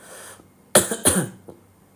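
Two harsh, close coughs in quick succession, followed by a fainter short cough, with quiet moments before and after.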